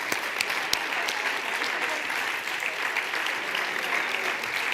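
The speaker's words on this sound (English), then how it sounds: "Round of applause." Steady, dense applause from a conference audience at the eTwinning annual conference, a continuous wash of many hands clapping at even loudness throughout, with a few louder nearby claps standing out.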